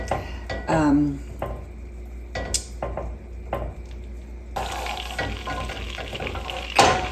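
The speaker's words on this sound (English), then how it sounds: "The butter is nearly melted." Butter melting in a pan as the base for a white sauce, giving a soft, low sizzle broken by a few utensil clinks and scrapes, with a louder hiss in the second half.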